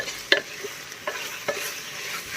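Ingredients for Kashmiri Veeri Nadir churma (lotus stem) frying in a pan, a soft steady sizzle broken by a few sharp utensil clinks and stirring scrapes.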